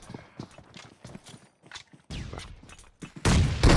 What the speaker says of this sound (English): I can feel the grenades getting launched.